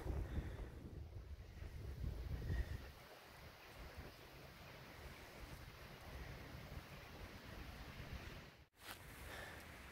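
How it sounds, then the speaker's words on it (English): Wind buffets the microphone in a steady rough roar on a Scottish hiking trail, gusting louder early on, with a brief dropout near the end. "And boy, it's windy, blowing on my face."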